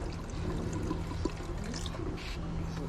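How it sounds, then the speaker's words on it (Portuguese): About 200 ml of water is poured into a pan holding sautéed fish head and shrimp shells, making a soft continuous trickling pour over a low background hiss. "E agora eu vou acrescentar água."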